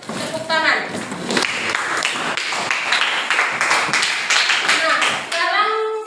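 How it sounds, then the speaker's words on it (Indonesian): Students in a classroom clap for a group that has just presented, with a close, uneven patter of hand claps and children's voices mixed in. "Kita beri tepuk tangan."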